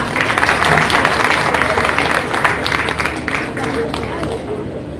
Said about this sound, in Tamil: ஒரு நல்ல கைத்தட்டல் கொடுத்துடலாம்.